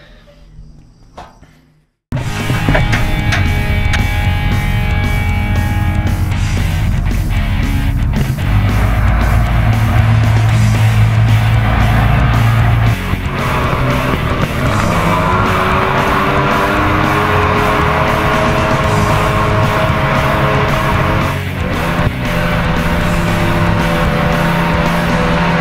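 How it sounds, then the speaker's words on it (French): Homemade mini jet boat with a fitted turbine, two-inch exhaust and homemade throttle pedal, running through shallow water about a foot deep: after a brief quiet start, a loud sustained engine roar with rising and falling revs continues to the end. "on vient de passer ici avec le mini jet boat"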